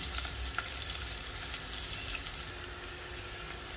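Chopped onions sautéing in a pan for a coconut khichdi, giving a steady close sizzle and fry with light stirring scrapes, even and continuous with no talking.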